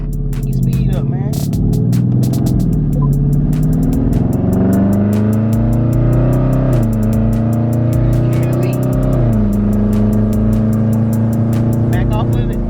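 A 2021 Dodge Charger Scat Pack widebody engine accelerates, heard loud and close from inside as a deep throbbing roar whose pitch climbs in steps with a couple of shifts along the way.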